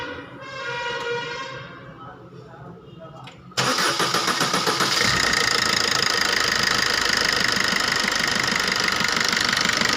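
A diesel engine, just repaired after a faulty number-one injector caused knocking, cranks and then catches into a loud, steady running clatter that continues to the end. Faint voices can be heard before it starts.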